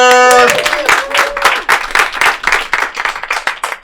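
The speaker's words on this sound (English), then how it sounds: "Give a round of applause to Sara Snyder." Comedy club audience at Shakers on Clark clapping to welcome the next comedian to the stage, a brisk run of close, dense applause that follows a brief voice and carries on steadily to the end.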